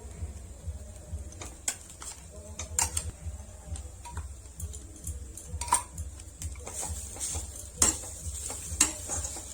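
A spoon scrapes and clinks against a pan as khoa is stirred into a gently frying mixture, with irregular metallic taps over a low sizzle.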